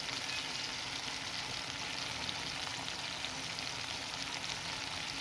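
Pieces of bitter gourd frying in a pan, a dense, steady, close-up sizzle with a crackling texture, continuous throughout with no talking.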